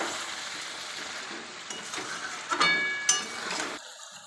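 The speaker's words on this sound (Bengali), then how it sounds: "এবার ভালো করে নেড়ে নেব এভাবে" Meat and fried potatoes are stirred together in a pan, with soft scraping and a light sizzle, plus a couple of sharp metallic clinks of the spoon against the pan near the end.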